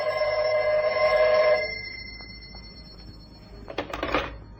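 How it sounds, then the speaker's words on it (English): An office telephone rings loudly and close for about a second and a half, a bright buzzing bell tone, then stops, followed by a soft handset clatter. "when the phone rang"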